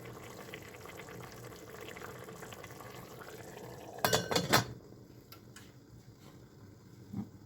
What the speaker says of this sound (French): la laisser cuire à feu doux et mijoter pendant entre 1h30 et 2 heures